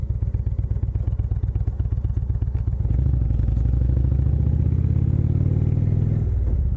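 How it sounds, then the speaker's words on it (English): A motorcycle engine runs outdoors in mild weather, first at a lumpy, pulsing idle, then revving up around the midpoint into a louder, smoother drone that holds close by before easing slightly at the end. "Motorcycle loves to run in this kind of weather. The motor loves it."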